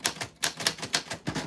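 Rapid clacking keystrokes on a 1949 Royal Arrow manual typewriter, about seven crisp strikes in an uneven typing rhythm, close and clear with no voices.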